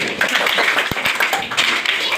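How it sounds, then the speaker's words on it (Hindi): Schoolchildren in a grade 7 government school science quiz break into a short burst of clapping, scattered claps mixed with chatter and voices in a classroom. "ताली बजाओ।"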